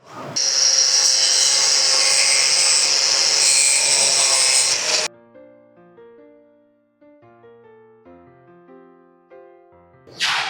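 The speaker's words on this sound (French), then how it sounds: "rouvrir la fissure avec notre meule comme signalé, puis la nettoyer avec le balai" An angle grinder reopens a crack in a wall with a loud, steady whine for about five seconds and then cuts off, followed by quiet soft tones and a brief burst at the end.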